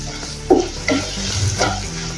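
Spices with turmeric are stirred and roasted in a pan before okra goes in. A close, low sizzle runs under three distinct scraping stir strokes.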